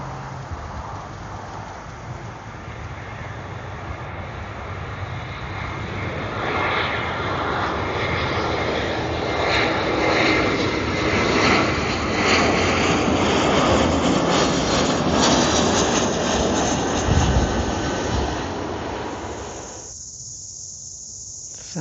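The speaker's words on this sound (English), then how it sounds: "Couldn't help myself, another plane coming into land." An airplane coming in to land near Puhinui Reserve in South Auckland, with a broad engine roar that builds and swells over many seconds before fading, alongside a steady insect chirp.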